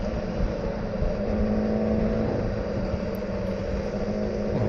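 A friend's car driving along a road at midday with the windows shut, heard from inside as a steady, unbroken engine and road rumble that holds at the same level throughout, with no voices.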